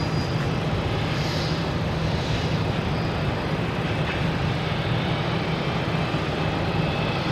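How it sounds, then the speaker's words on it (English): Steady broadband jet roar from a Lufthansa airliner taxiing at Boston Logan airport, a continuous distant rumble with engine whine that holds level throughout, with no talk. "Lufthansa is rolling around out there"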